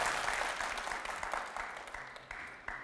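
A hall audience at a children's book-reading contest gives a burst of applause that thins out and fades over a few seconds.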